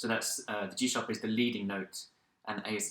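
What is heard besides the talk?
No everyday noise stands out behind the speech.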